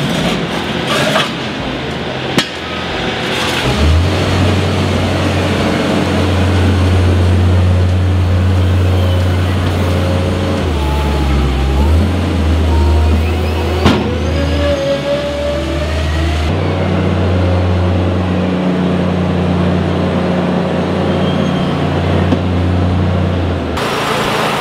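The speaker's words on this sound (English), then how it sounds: "All the edges are finished manually using a shovel and broom before a final sweep with a pedestrian sweeper." A pedestrian sweeper cleaning a poultry shed floor, its engine droning loud and steady for the whole stretch, the hum shifting pitch now and then as it moves, with scraping and knocks mixed in.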